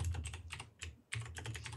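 Rapid typing on a computer keyboard, a steady run of close, light clicks in bursts with a brief pause midway, alone with no voices.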